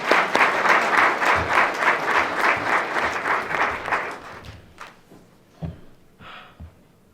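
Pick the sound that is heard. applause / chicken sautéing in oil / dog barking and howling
applause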